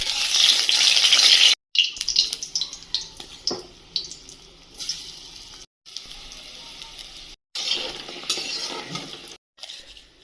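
Food frying in hot oil with a bright, hissing sizzle, interrupted by brief silent gaps and mixed with clinks and watery splashes from cooking cauliflower and potatoes.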